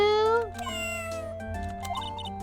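Cartoon cat named Shoo meowing in the video game Phoenix Wright: Justice for All, a clear rising-then-falling meow followed by game music, with a voice talking over it.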